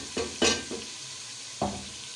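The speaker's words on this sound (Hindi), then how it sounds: "दस मिनट तक इसकी और भुनाई करेंगे।" Tomatoes softened with crushed green chillies and dry spices are sautéed in a pan for a potato chicken curry: a few scraping stirs, two close together and then one more a second later, over a faint steady sizzle.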